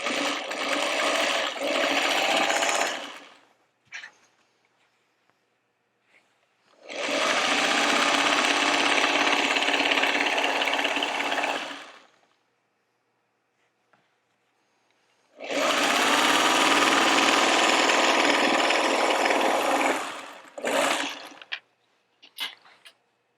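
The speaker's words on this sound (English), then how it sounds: "Once I've sewn my side borders on" A sewing machine runs in three long bursts, stitching fabric borders onto a trick-or-treat bag. It whirs steadily and close by, with short pauses and small clicks and handling noises between runs.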